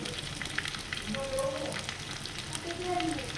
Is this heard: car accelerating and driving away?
no